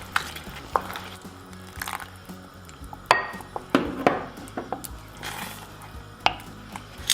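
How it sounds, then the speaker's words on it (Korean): Instant rice risotto with canned salmon being stirred in a pan on the stove, with scraping spoon strokes, clinks against the pan and a soft sizzle, steady and close with no talking. "진짜 리조또를 만들듯 계속 저어주세요"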